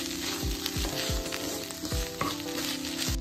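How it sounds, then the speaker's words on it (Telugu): Grated beetroot frying in ghee in a kadai sizzles steadily and close, while a spoon scrapes and stirs in regular strokes about every half second, with no voices. "దీనిలో ఉన్న తడంతా పొయ్యే వరకు వేయించుకోవాలి."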